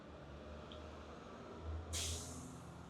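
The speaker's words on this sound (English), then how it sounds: "The sounds that you're hearing, the truck, is a fire truck." Fire truck idling in front of a house in the morning, a low, steady engine rumble with a sudden sharp air-brake-like hiss near the end, fairly faint overall.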